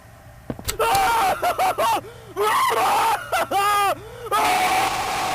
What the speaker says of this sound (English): his cardboard cutout begins to scream as soon as he tries to let us know what he remembers about us